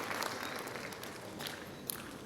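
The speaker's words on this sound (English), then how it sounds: "Ladies and gentlemen, can we have a round of applause for all our honorable dignitaries" Applause for honorable dignitaries at an evening award ceremony, a short stretch of faint, steady clapping from a crowd, heard at a distance and fairly quiet throughout.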